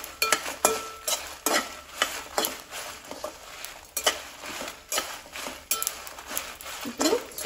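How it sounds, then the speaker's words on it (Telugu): Red chillies frying in a pan over a medium flame, a soft sizzle broken by repeated scraping and clinking of a spoon stirring against the metal, in an irregular rhythm. "సిమ్లో పెట్టేసి మీడియం ఫ్లేమ్లోనే ఈ మిరపకాయలు వేయించుకోవాలి"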